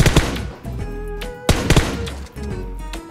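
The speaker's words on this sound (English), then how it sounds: "Someone is shooting me." Gunfire in the battle royale game PUBG cracks out in two loud clusters of rapid shots about a second and a half apart, with a steady low game hum running underneath.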